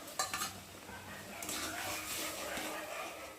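Milk poured over semolina being stirred in a pot, giving steady close scraping and swishing with a light sizzling wash over about three seconds; no one speaks.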